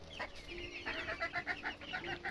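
Young bantam chicks cluck and peep softly nearby in a quick series of short, rhythmic calls, fairly faint and with no talking.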